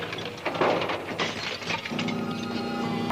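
In an action film car chase, a car smashes through a wall of empty cardboard boxes and ice blocks, with crunching, splintering and shattering impacts followed by a steady engine drone.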